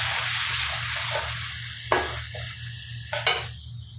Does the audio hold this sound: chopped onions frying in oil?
yes